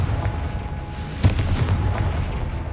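A Confringo spell exploding in the video game Hogwarts Legacy, a deep booming blast with a sharp crack in the middle, followed by rumbling and smaller pops over low ambient game noise.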